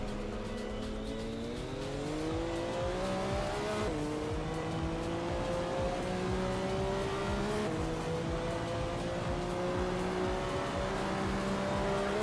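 A race car engine in Assetto Corsa EVO revs hard and steadily, its pitch climbing through each gear before dropping at a shift, loud and continuous for the whole stretch with no talk over it.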